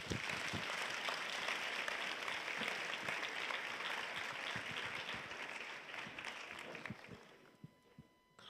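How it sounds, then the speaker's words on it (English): Steady applause from an audience welcoming a panel moderator at the EYE Berlin event, dense clapping holding for about seven seconds before tapering off toward the end. "Please welcome with a very warm round of applause our moderator for the panel discussion"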